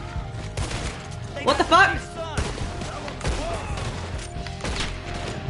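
Gunshots ring out in Red Dead Redemption 2, a few sharp cracks spaced over several seconds under a player's voice and game sounds.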